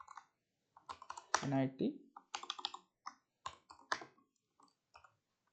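Typing on a computer keyboard while building a Flutter splash screen: quick bursts of close, crisp key clicks in irregular rhythm, with someone speaking briefly over them.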